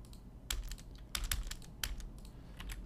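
Computer keyboard tapped while entering a trim command in CAD software for a roof truss plan: a few quick, close, crisp key clicks in small bursts, alone against quiet room tone.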